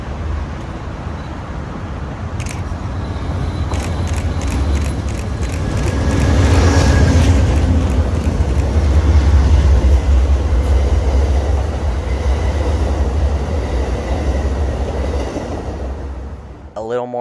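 An Amtrak train led by P-42 locomotives rumbles past at close range near Boston, a loud continuous roar with rhythmic clicking of wheels over rail joints, swelling and then fading.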